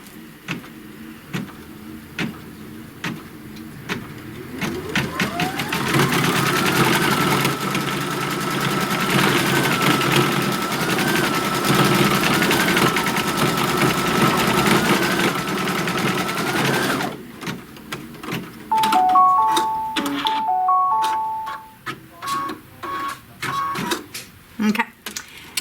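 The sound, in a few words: sewing machine stitching the tack down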